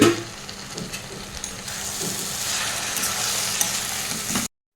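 Banana flower curry sizzles steadily in a pan while being stirred, with scraping and clinking strokes over a constant frying hiss. The sound cuts off abruptly at the end.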